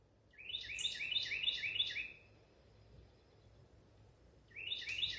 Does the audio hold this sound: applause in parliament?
no